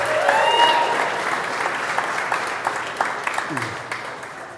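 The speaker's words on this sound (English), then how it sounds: "A big round of applause for Revolution for hosting us tonight and opening the taps." Applause from a crowd at a Brew Talks event hosted at Revolution Brewing in Chicago, loud at first then thinning into scattered claps, with faint voices and whoops mixed in.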